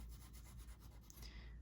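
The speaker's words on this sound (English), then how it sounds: "just going to sharpen the 6 again on my sanding block" A coloured pencil tip is rubbed against a sanding block in quick, soft rasping strokes, roughly a dozen rhythmic scrapes close to the microphone, faint and alone before trailing off.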